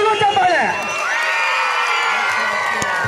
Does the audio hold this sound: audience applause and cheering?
yes